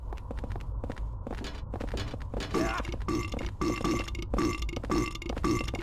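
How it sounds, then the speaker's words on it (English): A repeated burp sound effect from the video game Silent Hill 4 erupts in a rapid series of loud, close, guttural belches, mixed with thumping footstep-like hits. "Now, I don't know why they really went with the burp sound"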